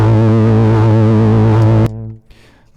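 An ASM Hydrasynth patch played through a Kernom Ridge overdrive pedal, a loud sustained distorted synth chord with rich wobbling harmonics that cuts off abruptly and decays into a short tail.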